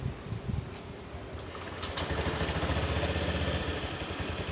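A Honda Click 125 scooter, in a repair shop for oil burning and rear disc brake work, runs with a soft, smooth low engine hum that steadies and grows slightly louder after a second, with no talk.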